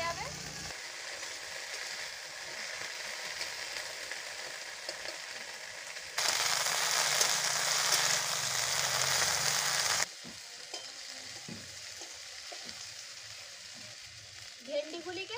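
Okra fries in hot oil, a close sizzle with stirring scrapes that swells much louder for several seconds midway before settling back to a softer crackle, with a voice briefly audible.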